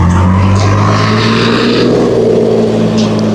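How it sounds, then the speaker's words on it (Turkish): Tractors pass along a village road in Pınarlıbelen, Bodrum, with a loud, steady, low engine drone that holds throughout, heard close to a parked car. "Traktörlerimiz de geçiyor."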